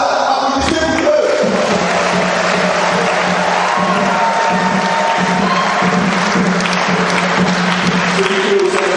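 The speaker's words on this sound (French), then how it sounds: "applaudissez pour eux" A church congregation in St Joseph Cathedral in Bafoussam applauds the newly ordained deacons, with loud, sustained clapping and crowd noise filling the space and occasional shouts and cheers rising within it.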